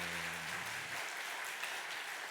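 A Sunday worship congregation claps to welcome newly registered church members, a short, steady patter of applause at moderate volume, with a low tone fading out in the first second.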